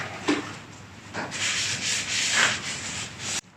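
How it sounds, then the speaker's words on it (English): A rag wiping a mill engine part clean with acetone, several close, rough rubbing strokes in an uneven rhythm, with no talking. "we'll give that a quick clean with acetone"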